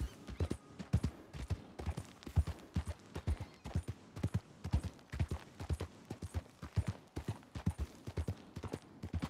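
Rhythmic horse hooves clip-clop at a steady walking pace in Red Dead Redemption 2, close and clear, with no talking over them.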